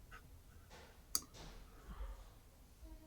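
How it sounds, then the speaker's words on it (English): A single sharp computer mouse click sounds once, quiet but distinct against a low background hum, with faint rustles around it. "Yeah, I clicked on this button"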